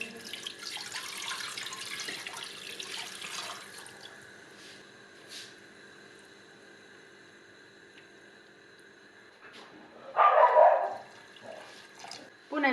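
Tap water poured into a pot of chicken legs, one brief splashing burst near the end after a long stretch of quiet kitchen background with faint clatter at the start.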